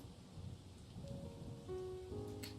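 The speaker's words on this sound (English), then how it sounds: "I'm caught in a downpour" Heavy rain downpour in a video game, a steady dense patter of rainfall with a faint low rumble and a brief tonal chime near the end, fairly quiet, no talking.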